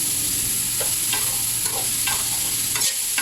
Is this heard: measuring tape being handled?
no